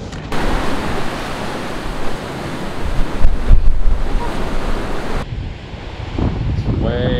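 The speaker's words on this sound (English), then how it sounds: "It's way too gusty." Gusty wind on the California coast, loud and continuous, buffeting the microphone in strong surges with a rough roar that eases slightly near the end.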